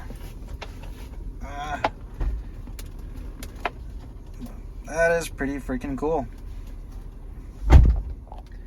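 A rear door on a Toyota 4Runner opens and then closes with a single dull thump near the end, while someone talks over most of the clip.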